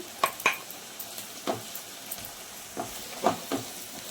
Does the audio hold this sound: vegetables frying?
yes